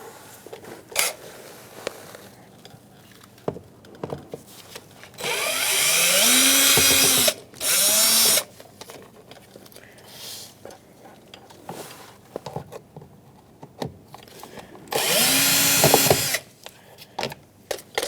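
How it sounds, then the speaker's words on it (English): A power drill drives out screws from the front door of a 2002-2006 Toyota Camry during window regulator replacement, in two whirring bursts of about two seconds each, separated by quiet clicks and handling noises. "I'm going to use my drill for that."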